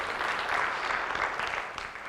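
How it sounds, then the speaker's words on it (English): Audience applause at an angler-of-the-year address, a steady dense wash of clapping at moderate distance that holds evenly throughout. "thank you so much for all the applause"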